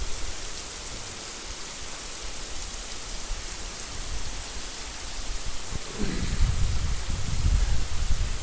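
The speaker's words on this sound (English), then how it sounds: "We are getting some serious rain." Heavy rain pours onto a beach parking lot during a thunderstorm, a dense steady hiss of water, with a low rumble of thunder building toward the end.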